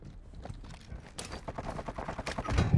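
Bursts of gunfire from Warzone 2.0, a military shooter, rattle in quick irregular volleys that build louder toward the end, with no talk over them.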